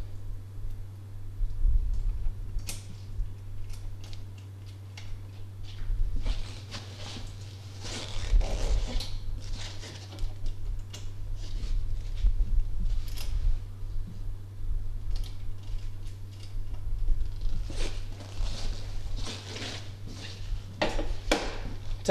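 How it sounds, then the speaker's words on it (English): A nut on golf cart windshield hardware is tightened, giving bursts of rapid ratcheting, zipper-like clicks and scrapes that come close and fairly loud in several runs, with no talking. "Tightening the windshield, it's not crucial to tighten it as tight as you can go"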